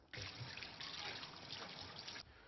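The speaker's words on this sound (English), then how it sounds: "Just going to wash my hands." A kitchen tap runs in a steady, close splash for about two seconds while hands are washed during meatball prep, with no talking.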